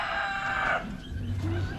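A rooster crows loudly and close, one long drawn-out call, followed by lower clucking from chickens, with no talk over it.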